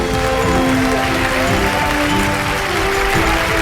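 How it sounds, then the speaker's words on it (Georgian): Dense, continuous applause fills a hall as an audience greets Keti walking to the ring at a televised show, loud and unbroken throughout. "აპლოდისმენტები ქეთის"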